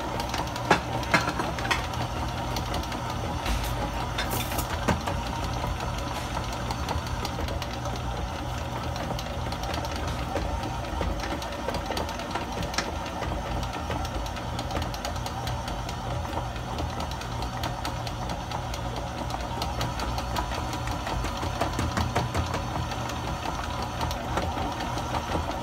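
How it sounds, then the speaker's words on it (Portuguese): Stand mixer motor churning babka dough with a dough hook, a steady rumbling drone with irregular knocking thumps as the dough slaps the bowl, continuous throughout with no talk. "aos poucos você pode aumentar um pouco a velocidade da batedeira também sem forçá-la demais"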